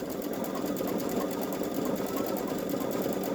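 A Babylock Solaris embroidery machine stitches fast while embroidering ghosts on a boy's t-shirt, making a steady, close, continuous high-speed whirring and rattling with no pauses.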